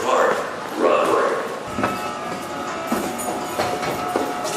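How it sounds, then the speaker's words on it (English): A New Jersey commuter rail train pulls into a Northeast Corridor station platform, with rumbling wheels, clanks and brake hiss, while a nearby voice talks over it. "Here's the train."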